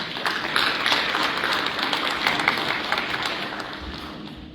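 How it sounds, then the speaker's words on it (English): A round of applause from the audience at a local content energy conference for a Total Energies representative, steady dense clapping from a large crowd filling the room with no talk. "Can you guys give him a round of applause?"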